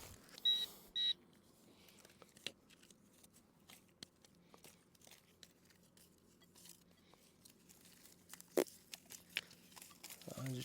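A Nokta Legend metal detector gives two short high beeps near the start, set against faint outdoor rustling and scattered small clicks.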